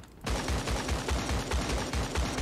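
Rapid automatic gunfire from the battle royale game Creative Destruction rattles loud and close in a sustained burst of evenly spaced shots after a brief quiet start.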